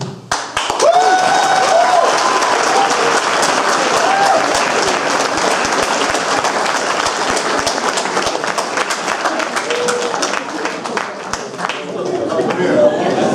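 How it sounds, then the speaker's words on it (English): A live audience at a spoken word poetry performance breaks into dense, sustained applause, hands clapping steadily for most of the stretch with scattered voices and chatter mixed in before it thins out at the end. "I'm into clapping."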